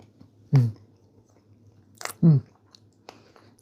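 Two close, crunchy bites and chewing of a soft strawberry and almond cake, each a short loud burst followed by quiet mouth sounds, with no talking in between.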